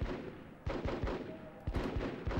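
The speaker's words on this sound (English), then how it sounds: "Hell if I'm gonna fucking sit here and get shot at." Scattered gunfire in Full Spectrum Warrior, a squad-based military tactics game on PS2, with several sharp reports spaced irregularly over steady battle noise, moderately loud and no talking.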